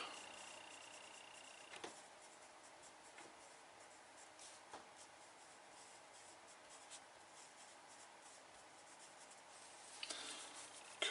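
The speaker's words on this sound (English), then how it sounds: "So I'm just going to write on here 7 by 5." A pen scratches and scrapes over a leathercraft pattern while measurements are written on it, quiet and close, with soft paper shuffles and a few small taps.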